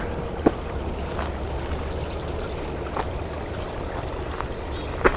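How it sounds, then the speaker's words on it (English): A stream's running water gives a steady, even rush outdoors in winter, with faint high bird calls scattered above it. "More running water."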